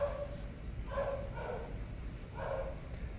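A dog gives a few short, faint barks at uneven intervals in a pack setting, quiet and fairly distant over a low background hum.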